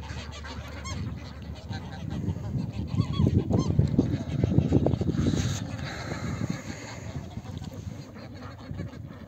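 Waterfowl honk and quack in a noisy cluster, with dense overlapping calls close by and a faint voice underneath.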